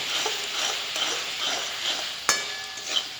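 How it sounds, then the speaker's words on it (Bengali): Milk kheer being stirred in a frying pan: a steady soft sizzle with gentle scraping strokes, a sharper clank of the spoon against the pan partway through and another near the end. "ক্ষীরটা দিয়ে ভালো করে নাড়তে হবে।"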